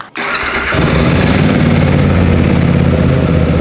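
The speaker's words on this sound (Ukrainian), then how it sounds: "Першим ділом все ж таки заведемо та послухаємо, як він звучить на стоковому." A VOGE DS800X Rally motorcycle engine with its stock exhaust starts and settles into a steady, loud idle with a low, throbbing exhaust rumble.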